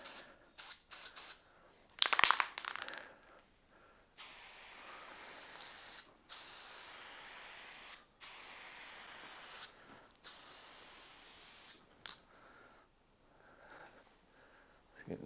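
Aerosol spray paint hissing onto a Honda CT110 motorcycle part in cold weather, several steady bursts of a few seconds each with short gaps, close and fairly loud, no talking.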